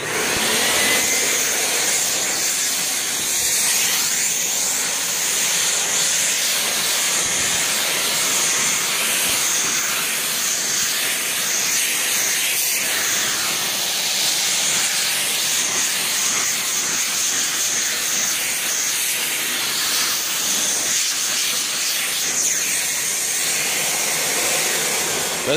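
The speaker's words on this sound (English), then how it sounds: "Now here's what he had suggested with a shop vac." A shop vac runs continuously with a loud, steady hiss and whoosh as it vacuums dust off a car body in a workshop, with no talk over it.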